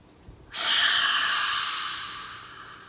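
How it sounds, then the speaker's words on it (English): One long, deep breath drawn in through the nose during a children's calming exercise with a singing bowl: a sudden, close, airy inhale that swells, then slowly fades over about two seconds. "rocket ship breathing for the big bowl, right? We're gonna blast off and breathe in."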